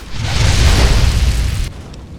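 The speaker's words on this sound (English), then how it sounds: "So this will blow up if I just shoot in there, right?" A single loud explosion from shooting into a booze-filled distillery room in a video game, a deep rolling boom that swells and then cuts off after about two seconds.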